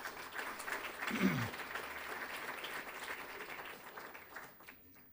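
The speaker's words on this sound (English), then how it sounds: "So give a round of applause to our faculty who are doing outstanding research." Dinner audience applauding faculty at an honors dinner, a steady wash of many hands clapping that swells early and fades out near the end, with a brief voice rising above it.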